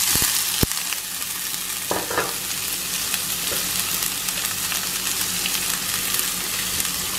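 Onions frying in hot oil for a Kerala-style chicken curry, a steady close crackling sizzle throughout with a couple of sharp utensil knocks near the start.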